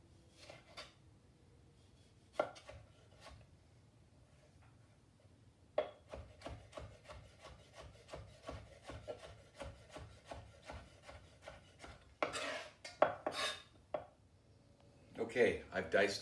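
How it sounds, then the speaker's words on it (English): A knife dices five tomatoes on a wooden cutting board, making a long run of quick, steady taps and scrapes close by, with a few louder knocks and rustles near the end. "Okay, I've diced those 5 tomatoes."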